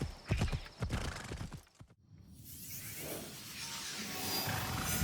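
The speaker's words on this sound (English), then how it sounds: "we're going to call up the horse" A horse in the video game Assassin's Creed Shadows clops along with quick hoofbeats, then whinnies amid a wash of game ambience and rushing background noise.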